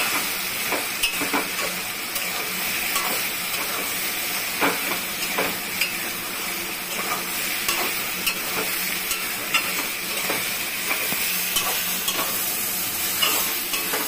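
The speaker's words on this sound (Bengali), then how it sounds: "দিয়ে এবার নাড়বো একটু ভালো করে। নুন হলুদটাকে ভালো করে মেশাবো নেব।" Taro stolons are stirred in a hot pan with salt and turmeric, making a continuous loud hiss and sizzle with frequent soft scraping taps from the spoon throughout.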